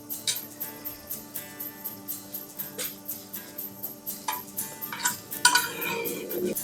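Filo pastry sheets being measured and cut on a kitchen counter beside a buttered 22 by 33 Pyrex dish, giving a steady run of soft taps and light clicks that grow into brighter rustling and clinking near the end.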